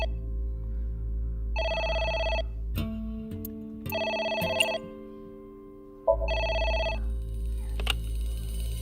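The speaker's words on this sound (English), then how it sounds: "It's the phone." In AI: The Somnium Files video game, a phone rings loud and close in three electronic bursts separated by pauses, over a humming musical background with no speech.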